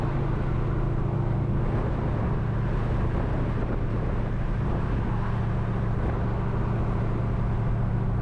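Loud cammed Cadillac CTS-V driving along, a steady low engine drone with a lumpy idle-like rumble and road noise held constant from start to finish, no voices.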